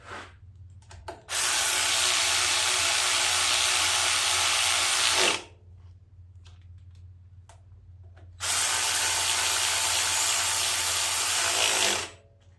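A power tool drives down the head bolts on a 27-horsepower Kohler engine of a Simplicity riding lawn mower, whirring in two loud, sustained runs of several seconds each with a short pause between them.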